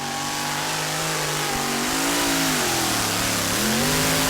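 A two-wheel-drive pulling tractor's engine roars loud and close at a tractor pulling event in Bouconville, its pitch sagging and wavering as the machine loses speed, with no voices over it.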